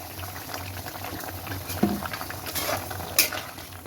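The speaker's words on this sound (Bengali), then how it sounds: "এই মাছ দিয়ে একটু ফুটবে" Rohu fish curry with winter vegetables such as potato and radish bubbles in a pot. A steady, close boil with soft popping runs throughout, and nobody speaks.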